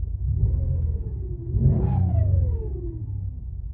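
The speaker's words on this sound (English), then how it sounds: "I'll rev it up." Pontiac car engine revved once, a deep close rumble that rises in pitch to a peak and then falls back to idle, alone without speech.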